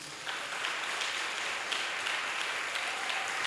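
A church congregation applauds at a worship service, a steady, fairly soft wash of many hands clapping together with no voices over it.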